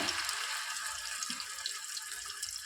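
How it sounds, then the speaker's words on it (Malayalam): Fish slid into hot coconut oil frying in a pan, giving a steady, dense sizzle that stays loud and even throughout with no talk over it. "അപ്പോൾ നമ്മുടെ എണ്ണ ചൂടായിട്ടുണ്ട്. അതിനകത്തോട്ട് നേരത്തെ വെച്ചിരിക്കുന്ന മീൻ"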